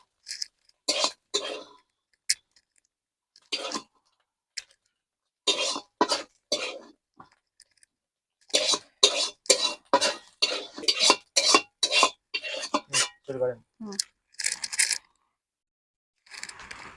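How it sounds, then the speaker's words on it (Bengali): Fried eggs being lifted out of a pan with a metal utensil, a series of sharp clinks, taps and scrapes in uneven bursts, close and fairly loud, no talking. "এবার ডিমগুলো তুলে নেব"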